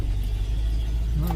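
A pickup truck engine runs at a steady low idle throughout, a loud continuous rumble heard from inside the cab.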